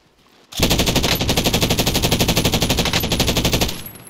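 Rapid automatic gunfire in an online shooter match, one loud, steady burst that starts abruptly and runs for about three seconds before cutting off, with no talk over it.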